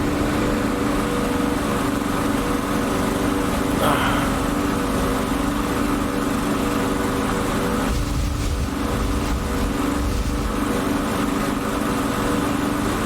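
The engine of a Spitfire LF Mk. IX fighter in the DCS World flight game drones steadily at full power, a loud, unbroken propeller-engine roar held throughout.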